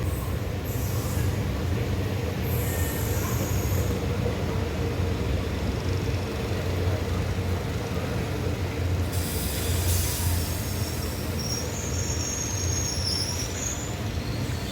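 The Rajya Rani Express rolls on after leaving Maddur station, a steady, loud rumble and rattle of carriages heard from inside, with brief hissing bursts now and then.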